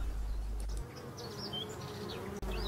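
Black bees buzz steadily in an apiary set among untrimmed wild vegetation, several insects humming close and moving past the hives over a continuous low drone.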